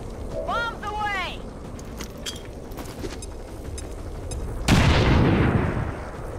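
A bomb explodes in the video game XCOM 2: a sudden loud broadband blast hits late and rumbles off, after a stretch of game effects, chirping tones and background noise with a person talking.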